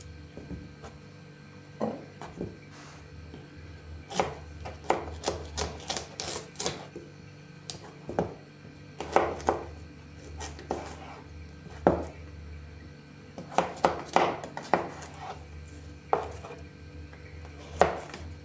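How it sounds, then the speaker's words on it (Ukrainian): Vegetables for a salad are cut into large pieces with a knife on a board, crisp, irregular knocks coming in quick clusters with short gaps, close and clear. "Для приготування другого салату овочі будемо нарізати великими кусками хвостики обрізаємо."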